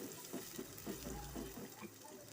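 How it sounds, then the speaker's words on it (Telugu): A glass of water poured into a pan of hot oil and spices while making an egg curry, heard as a steady gurgling stream with rhythmic sloshing, fairly close and without talk. "1 గ్లాస్ నీళ్ళు పోసుకోవాలి."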